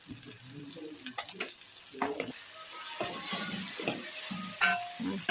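Tomato pieces and bitter gourd cooking in a pan, with soft sizzling and occasional stirring scrapes and clinks, moderately close and steady throughout.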